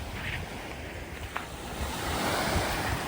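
Steady roar of ocean surf breaking on a North Florida beach, with wind buffeting the microphone and a continuous wash of waves swelling slightly louder toward the end.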